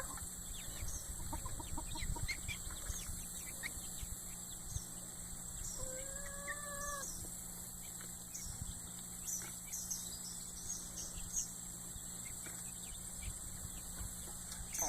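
Hens and chicks in a coop, with a steady insect-like chirring throughout and a short clucking call standing out near the middle, all fairly faint and with no talking.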